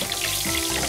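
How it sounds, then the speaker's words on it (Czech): Eggplant sizzles loudly in hot oil in a pan, a dense, steady crackle close by for under a second, with no voices. "Ten lilek trochu vyždímu a opatrně vhodím do toho rozehřátého oleje. A smažíme do zlatova."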